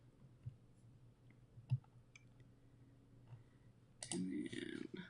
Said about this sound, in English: we're going to type in health.